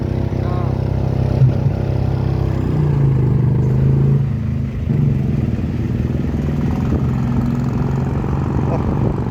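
A single-cylinder engine vehicle chugs steadily at a festival parade, a continuous low mechanical drone with a brief dip midway, crowd noise and voices mixed around it.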